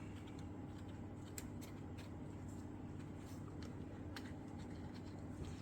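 Scissors snip and trim a piece of resin during a velvet-effect resin craft, giving a string of quiet, irregular crisp clicks over a steady low background hum.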